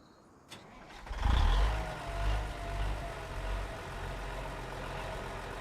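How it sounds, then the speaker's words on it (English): Farm vehicle engine in the video game Farming Simulator 25 cranking and firing up after a click, then settling into a steady low idle rumble, close and loud without talk. "Now I'm going to come out of here so you can hear this engine as it fires up."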